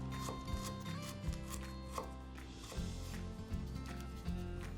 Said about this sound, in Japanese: 続いてニンニクはみじんです